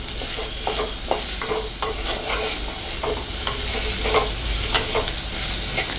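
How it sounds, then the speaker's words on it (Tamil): Vegetables for moong dal sambar sizzle steadily in a hot pan while a utensil stirs and scrapes, giving sharp clicks over a constant frying hiss. "இந்த காய் வந்து நல்லா நம்ம வதக்கிக்கணும்."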